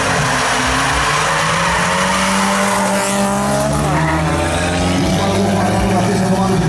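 A Volkswagen Gol drag-racing car at a Brazilian drag strip roars loud and continuous under a race commentator's voice, its engine note rising and shifting with faint tire squeal.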